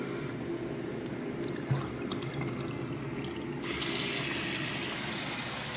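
Water runs steadily through a stainless steel institutional shower made by Acorn Engineering, a constant close hiss and gurgle that swells louder partway through as the flow increases.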